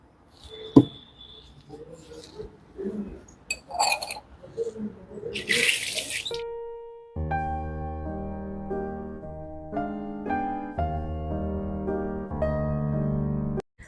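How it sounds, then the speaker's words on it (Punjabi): Dishes washed under running water at a gurdwara, with splashing and clinking of utensils in the first half before the scene gives way to sustained tonal music. "ਬਰਤਨ ਸਾਫ਼ ਕਰਨ ਦੀ ਸੇਵਾ ਕਰ ਰਹੇ ਹੈ ਸਰਦਾਰ ਜੀ"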